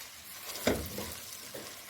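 Onions frying with salt in a pan for moong dal mangochiyan, a soft steady sizzle with a louder stirring scrape midway and a fainter one near the end, close and quiet with no talk.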